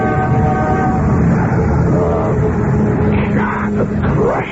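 Train ride sound effect from a radio drama: a steady loud rumble of rolling rail cars with sustained horn-like tones, continuous throughout and ending with squealing, wavering high pitches.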